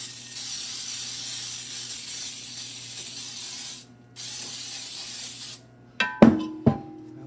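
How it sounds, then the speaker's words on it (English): A long, steady hiss of aerosol baking spray onto a cake pan with a brief pause midway, followed by a few clattering knocks at the end. "Spray my pan."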